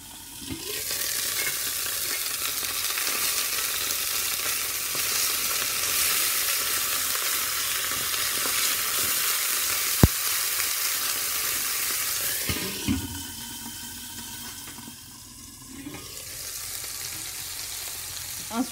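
Merguez sausages sizzle and fry in a covered pan, a steady, close hiss of spattering fat that runs unbroken, with a clatter midway and a brief shift in tone near the end.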